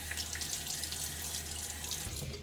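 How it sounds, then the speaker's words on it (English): Steady running water from a tap pours into a bathroom sink before a wet shave, a close, continuous rush with light splashing and no talking. "I'll splash some water on my face"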